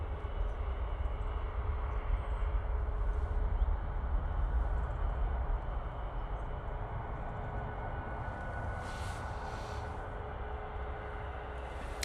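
TUI Boeing 737 MAX 8 airliner departing off runway 05 left at Manchester Airport, a steady distant jet engine roar with broad low rumble, sustained throughout and fairly faint, with no voices.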